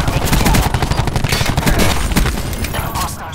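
Rapid automatic gunfire in the video game Call of Duty, dense loud bursts of shots for about three seconds, ending in a brief lull.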